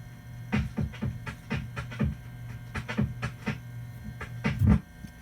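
A lathe-cut record spins on a turntable, giving irregular crackles, scratchy ticks and thumps over a steady low hum, fairly close and uneven, with no voices.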